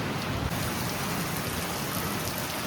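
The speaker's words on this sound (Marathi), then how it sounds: "जोरात असा पाऊस आला आहे मित्रांनो" Heavy rain pours down in Varanasi, a dense, loud, unbroken hiss of drops drumming on surfaces close by, with no voices.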